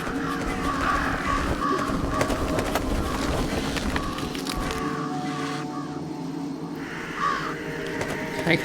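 Crows caw repeatedly in the Jenny LeClue video game, harsh calls recurring over a steady ambient game background, moderately loud and with no talking.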